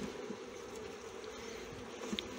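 Honeybees buzz at an opened Ležan hive holding a still-weak colony, a steady close drone running unbroken with a few louder passes of single bees near the end.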